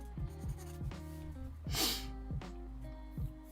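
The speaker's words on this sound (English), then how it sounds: "Oh, I don't like the scratching sound." A Conte Paris Pierre Noir black pencil scratches on paper in quick, faint, rhythmic strokes, close and alone against a low steady hum.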